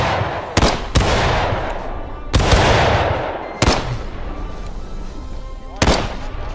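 Civil War musket volleys in War of Rights: several sharp, loud reports spaced a second or two apart, each followed by a rolling rumbling decay, with distant crackle and battlefield noise between shots.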